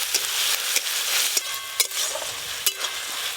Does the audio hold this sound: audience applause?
no